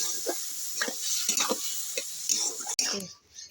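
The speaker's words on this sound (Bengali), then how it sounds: "এবার আমি আমলকির সঙ্গে একটু মিশিয়ে নেব।" Amla (Indian gooseberry) pickle mixture with tamarind being stirred, a series of soft scraping strokes at a steady rhythm over a faint hiss, close and moderately loud.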